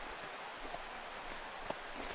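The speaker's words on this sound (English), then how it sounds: "as the rain continues to fall here" Rain falls steadily in MLB The Show, a constant hiss of drops on the surface with a couple of faint taps, and no voices over it.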